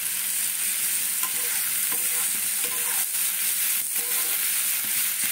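Onion fries in a pan, softening, with a constant close hiss of sizzling oil and faint clinks of stirring, no voices.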